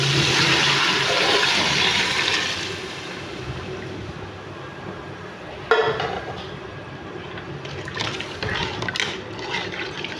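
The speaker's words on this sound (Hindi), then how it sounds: "अब डालेंगे इसमें पानी।" Water or stock pours loudly and steadily into a cooking pot of fried ojhri (tripe), a gushing, flush-like rush that tapers off and then returns in splashy bursts.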